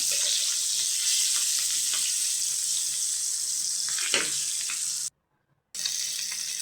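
Fish frying in a pan in a home kitchen, a loud continuous crackling sizzle with small pops, briefly cut to silence for about half a second before resuming, with no talk.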